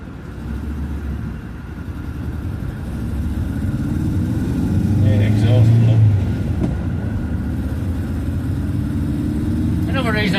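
A Ford Zephyr MKIV V4 classic car idles with a steady low engine drone, loud and close, swelling slightly in the middle with a brief higher rasp near the end.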